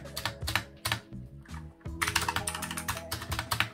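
Keys clatter on a Razer Huntsman Mini 60% keyboard in quick, close, irregular bursts of clicky strokes with brief pauses, heard on its own.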